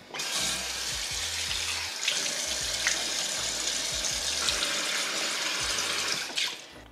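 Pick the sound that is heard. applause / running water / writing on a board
running water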